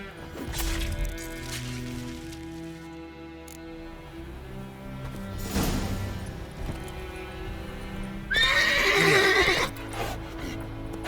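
A horse in The Witcher 3 snorts and whinnies, with hoof clops and movement sounds in a game scene, quiet at first before a loud, shrill neigh near the end.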